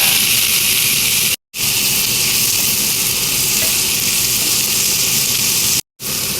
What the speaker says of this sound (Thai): หอมแดงนิดหน่อย ใส่ลงไปผัดเลยค่ะ